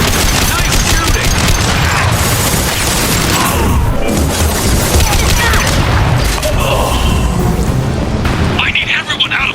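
Gunfire and heavy booms from a Mass Effect 2 battle fill the scene continuously, loud and dense throughout, with voices speaking over the combat.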